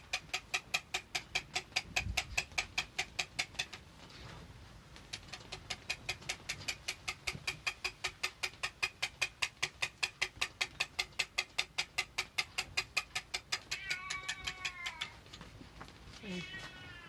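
Domestic cat meowing repeatedly near the listener, a steady run of insistent cries with a few drawn-out, rising calls toward the end, while a person speaks softly to it in between.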